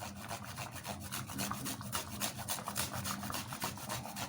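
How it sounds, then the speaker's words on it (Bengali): Fresh ginger rubbed against a grater into mung dal, a quick, even rhythm of close, scratchy rasping strokes repeating steadily throughout. "এবার আমি ডালের ভেতরে একটু আদা ঘষে দিচ্ছি"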